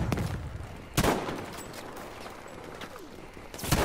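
Gunfire in Battlefield V, a few sharp loud shots spaced apart, with echoing tails and distant battle noise in between.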